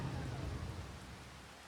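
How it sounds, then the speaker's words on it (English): Steady rain falls in the Farming Simulator 25 video game, a dense, even wash of hiss with a low rumble beneath. It stays constant and fairly quiet, with no voices. "As you can see, the rain is in full swing."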